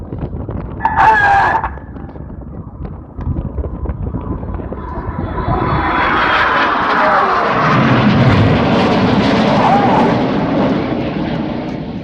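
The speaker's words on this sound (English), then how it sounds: "Pitching up on the left-hand side with a puff of white smoke is Red 6." Red Arrows jets flying a display at the Sunderland Airshow, building from a distant rumble into a loud, sustained roar that holds for several seconds, with a brief rooster-like crow near the start.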